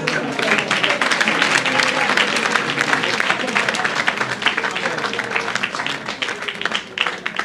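A church congregation applauding together, dense sustained clapping with voices mixed in, loud and close for the whole stretch.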